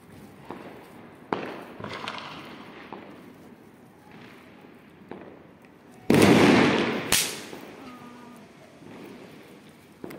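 Small firecrackers go off during Diwali celebrations with sharp nearby bangs and a louder crackling burst, separated by quieter outdoor background noise.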